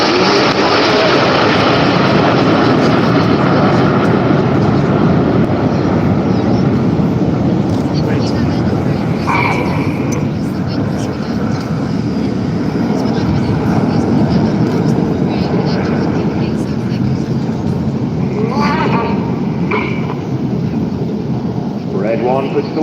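Red Arrows aerobatic jets roar overhead at the Bournemouth Airshow, a loud, continuous engine rumble that swells and fades over several seconds, heard at a distance across an open outdoor setting.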